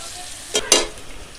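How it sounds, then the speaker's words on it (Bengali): Chopped onions fry in a pan for a Bengali bhola fish masala curry, a soft steady sizzle broken by two quick scraping stirs in the middle, close by. "পেঁয়াজটা একটু লাল লাল করে আমরা ভেজে নেব"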